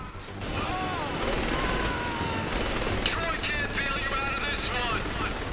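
Sustained gunfire from the Saints Row: The Third Remastered video game, a steady dense barrage mixed with engine-like roar and game effects, with a voice talking over it.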